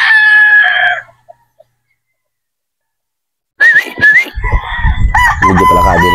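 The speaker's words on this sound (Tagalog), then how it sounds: "Ito po mga bossing, ang ating Boston Roundhead." A Boston Roundhead brood stag rooster crows nearby, loud and clear, then after a few seconds of silence lets out more crowing and clucking calls mixed with other close bird sounds.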